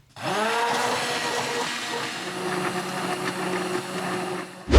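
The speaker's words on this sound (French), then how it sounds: "Voire même passer un petit coup de mixeur." Blender whirring through homemade chocolate soy milk, starting abruptly and holding a loud, steady motor whine for several seconds before a sharp knock as it stops.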